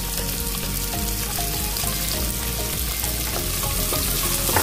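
Steady, dense sizzling of onions frying in a hot pan, continuous and close with no talking.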